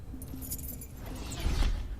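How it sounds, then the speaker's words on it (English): Car keys jangle in a film scene, a light metallic rattle of small clinks heard close, with a low rumble underneath and a louder burst near the end. "Are those the car keys?"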